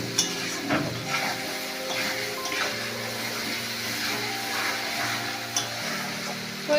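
Tomatoes sauté in a pan for a Rajasthani nimkin curry, giving a steady soft sizzle with occasional stirring taps and scrapes and no talking.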